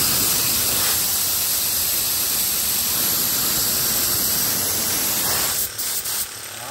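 Steady broadband hiss of compressed air escaping from a Japanese-market used pneumatic tool with its valve opened, loud and continuous for most of the stretch, then sputtering and cutting off near the end.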